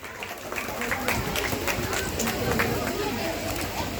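Crowd applause at a school Independence Day celebration, steady scattered clapping from many hands that fills the whole stretch at moderate distance, with voices mixed in.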